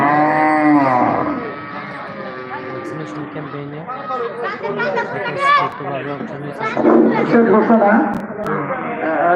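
Cattle moo loudly and repeatedly among goats, ducks and chickens gathered on a high school field at a rural livestock fair with vaccination, over a steady background of crowd chatter and nearby voices.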